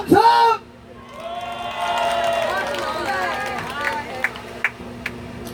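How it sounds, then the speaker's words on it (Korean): A crowd at a Gangneung invited nanta drumming show lets out a brief, loud burst of cheering and whoops, then fades as a performer talks over a low murmur of the audience. "자 우리 앞에서만 박수와 함성!"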